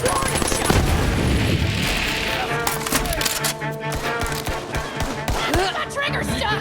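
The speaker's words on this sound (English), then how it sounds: "Some of these are warning shots!" Gunfire in a video game comes as bursts of sharp, rapid shots and booms, some spaced and some clustered, and the shots mix with voices talking over them.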